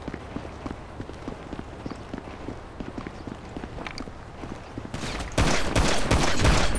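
Gunfire in Grand Theft Auto V during gameplay, with scattered shots and footstep-like tapping over a steady game background, then a loud, dense burst of noise near the end.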